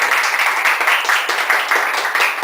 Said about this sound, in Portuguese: Uma salva de palmas para a Alenka.